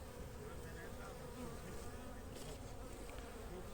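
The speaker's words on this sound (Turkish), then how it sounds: "Bir avuç arı anca var yok" Dense, steady buzzing of many honeybees clustered close around their queen, a continuous hum with no talking.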